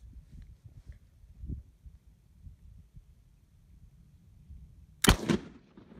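A surplus Italian 8mm rifle cartridge fires after a hang fire delay, giving one sharp, loud report late in a quiet stretch with faint low rumble before it.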